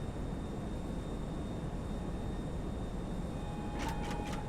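Steady engine drone of a plane flying in GTA V, a continuous broadband rumble with a faint high tone, ending with a few brief crackling bursts.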